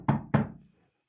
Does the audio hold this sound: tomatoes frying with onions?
no